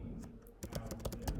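Typing on a computer keyboard while writing JavaScript code: a run of close, crisp, irregular key clicks that starts partway through over a low background hum.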